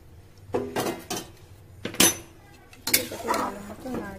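Mutton curry with added hot water being stirred in a metal pressure cooker: a spoon scrapes and clanks against the pot in irregular, close bursts, with quieter gaps between strokes.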